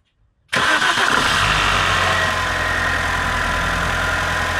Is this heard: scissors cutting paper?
no